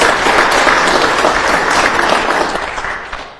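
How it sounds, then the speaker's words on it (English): An audience at a contact center conference in Zimbabwe applauds loudly and steadily, the clapping fading slightly toward the end. "Can we clap hands for ourselves?"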